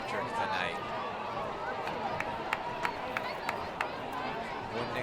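A crowd murmurs and cheers at the Milton High School homecoming football game against Oregon, a steady roar of a large outdoor gathering with scattered claps and shouts, under a commentator's voice.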